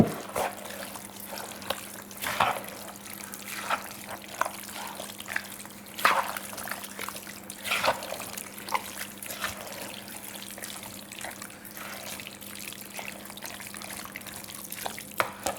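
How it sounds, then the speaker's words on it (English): Water trickles and drips into a kreatopita meat pie mix of meat and rice in a home kitchen, a light, steady liquid pour with scattered small splashes, close and fairly quiet, with no talking. "And I add a little bit of water as well."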